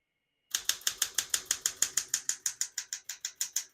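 Keys strike on a 1966-1972 Smith-Corona Galaxie Deluxe portable manual typewriter, about eighteen crisp, evenly spaced clacks in a steady rhythm, close and alone.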